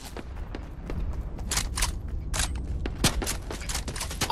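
Gunshots in the video game Fortnite, a scattered volley of sharp single shots and short bursts over a steady rumble, some close and loud, others fainter, with no talk.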